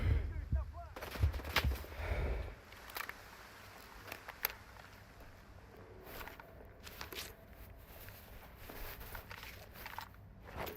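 Enemy gunfire in S.T.A.L.K.E.R. 2 rings out in a rapid burst of close, heavy shots early on, then gives way to quieter scattered pops, footsteps and faint game ambience.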